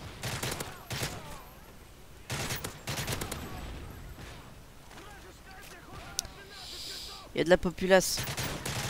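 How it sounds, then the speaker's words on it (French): Gunfire in a Modern Warfare 3 survival match on the Lockdown map, MSR sniper rifle among it: bursts of sharp shots in clusters spread through the stretch, with people talking in between. "J'entends tirer au MSR."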